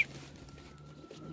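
Homing pigeons coo softly in a loft, faint low murmuring calls under steady outdoor background noise, with a brief higher chirp at the start.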